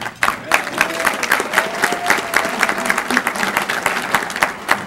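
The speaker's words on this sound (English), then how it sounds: "Let's hear for Dave" Loud, steady applause from a crowd, dense clapping with a few individual claps standing out, sustained throughout.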